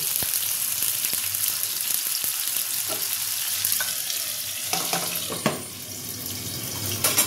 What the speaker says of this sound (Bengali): দিয়ে দেবো অল্প জল